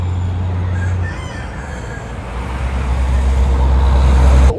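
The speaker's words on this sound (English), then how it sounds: "Y'all, down here in the Keys, there are chickens that just wander around" Free-roaming chickens in the Florida Keys, a rooster crowing faintly at a distance over steady outdoor rumble and passing traffic noise.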